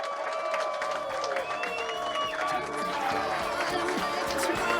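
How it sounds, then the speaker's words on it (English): Darts fans in a packed arena applaud and cheer at the close of a 2022 US Darts Masters qualifying match, a steady roar of clapping mixed with crowd voices and shouts throughout. "Give yourselves a round of applause."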